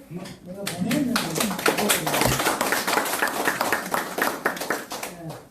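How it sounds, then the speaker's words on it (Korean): Audience clapping during a security-affairs lecture by a civic group, many hands at once in a dense burst that holds steady, with a voice or two mixed in. "박수!"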